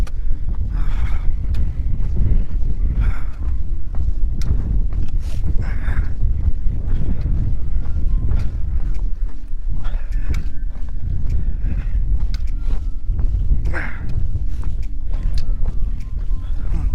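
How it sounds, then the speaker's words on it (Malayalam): Cold, icy mountain wind on the Everest Base Camp trek between Pheriche and Lukla in the Himalayas buffets the microphone loudly and continuously, a low rushing roar with scattered faint clicks and knocks. "ആ മലയിൽ നിന്നൊക്കെ വരുന്ന നല്ല തണുത്ത ഐസ് കാറ്റ്."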